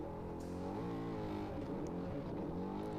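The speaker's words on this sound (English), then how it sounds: "Trophy truck spec coming around." A Trophy Truck Spec race truck in an off-road qualifier roars past with a steady, loud engine note that rises and sweeps in pitch as it drives by, without talk.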